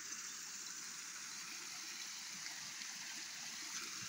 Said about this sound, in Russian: Вот тут ручей.